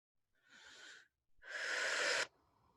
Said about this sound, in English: close your eyes, and start breathing deeply